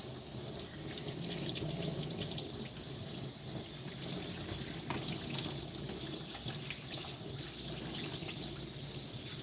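Water runs steadily from a tap while a Yorkie dog is shampooed and rinsed at a grooming sink, a continuous close splashing gush with small irregular drips and no talk.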